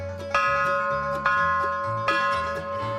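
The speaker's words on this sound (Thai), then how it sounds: "เสียงกังวานของระฆัง" A bright, resonant Buddhist temple bell in Thailand struck three times at a steady pace, each ring sustaining a long shimmering tone that overlaps the next.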